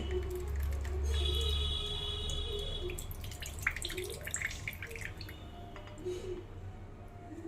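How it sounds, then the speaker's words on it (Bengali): Blended watermelon juice trickles and drips through a kitchen strainer into a bowl, soft close wet drips and a light patter over a low steady hum. "তরমুজের যে জুসটা করেছি এই যে মিক্সিতে, এটাকে একটু ছেঁকে নেব। ছাঁকনির মধ্যে দিয়ে"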